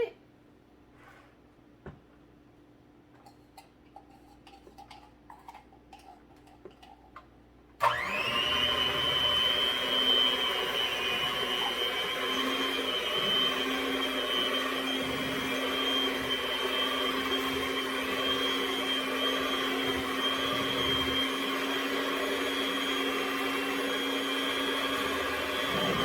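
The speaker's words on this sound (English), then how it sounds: "Get your beater on up in there, girl, and get to mixing" Following quiet clicks and rustling, an electric hand beater suddenly starts and runs on steadily with a loud, constant high whine while mixing dessert batter for a strawberry shortcake trifle.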